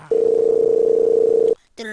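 Telephone ringing tone in the Minecraft escape map, a loud steady electronic tone held for about a second and a half, then a short gap before another tone begins.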